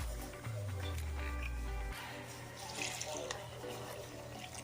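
Water, two cans' worth, pours steadily into a mixing pot of green ube maja blanca mix for about two seconds, a low gushing fill, followed by quieter clinking and faint handling noises.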